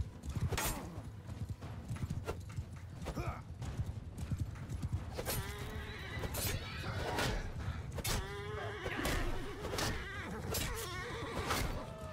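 Horses in the medieval battle video game Mount and Blade 2: Bannerlord, with dense clip-clopping hooves and repeated loud neighs and whinnies over a busy battlefield din.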